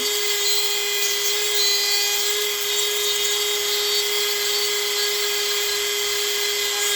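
A Dremel rotary tool sharpens a chainsaw chain, giving a steady high-pitched whine with a faint gritty grinding edge, continuous and close, with no talk.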